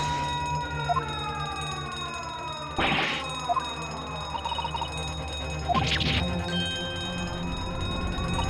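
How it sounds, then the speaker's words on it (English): A ship alarm in the video game The Great Ace Attorney Chronicles rings out in two sharp clanging bursts a few seconds apart, over a steady electronic game tone. "That's the alarm."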